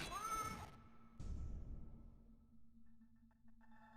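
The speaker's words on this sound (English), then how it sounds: "We're back to cat sounds." A cat gives a drawn-out meow up close, then a second shorter cry, with a steady electronic hum and faint beeps behind.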